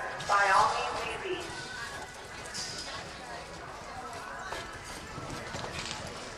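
A 2004 sorrel gelding runs a course, its hoofbeats a soft rhythmic drumming under a busy arena ambience while an announcer speaks over a loudspeaker.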